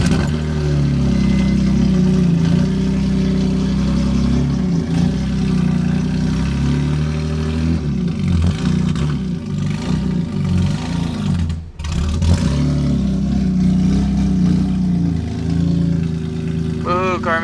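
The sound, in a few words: M3 GTR car engine running and revving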